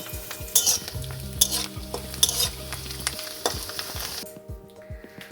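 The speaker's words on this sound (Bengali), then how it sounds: "পাঁপড়গুলো ভেজে রাখছি" Papads frying in hot oil in a home kitchen, a crackling sizzle with scraping stirring strokes and clinks of a utensil against the pan, close and busy, fading to quieter sizzling near the end.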